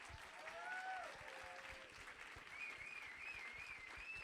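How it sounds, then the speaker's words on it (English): Steady applause fills a hall for the players at the 2019 Classic Tetris World Championship, a continuous even patter of many hands heard from a distance with a faint whistle-like tone over it, no talk. "So a round of applause for all of us,"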